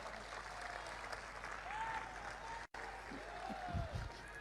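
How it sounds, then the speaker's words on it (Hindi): A crowd claps steadily in sustained applause, a dense even patter with brief voice-like tones rising over it. "यहां तो तालियां बजी।"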